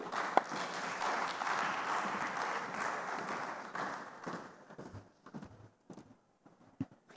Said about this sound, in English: Please, let's applaud her.